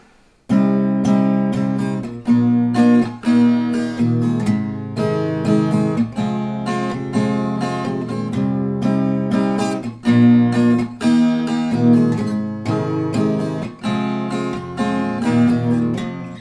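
Guitar strummed at a steady moderate pace, chords cycling in a repeating pattern, close and full, purely instrumental.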